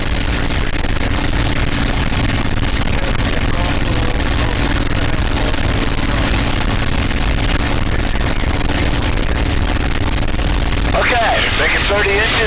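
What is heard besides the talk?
North American P-51 Mustang aircraft engine running during mag check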